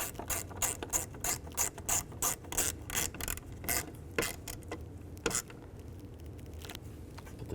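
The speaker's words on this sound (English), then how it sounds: "And tighten that down." Hand ratchet tightening a screw on the rear shock mount of a 2004-10 BMW X3, a close, fast series of crisp clicking strokes in short bursts that thin out to a few final clicks.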